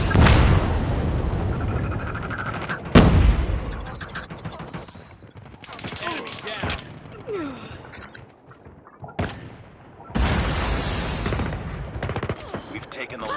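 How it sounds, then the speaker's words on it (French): Call of Duty Mobile gunfire in a zombie mode: heavy automatic bursts and sharp shots come in loud close volleys with gaps between them, while someone talks over the shooting. "je carrément tire à l'aveugle dans le combat"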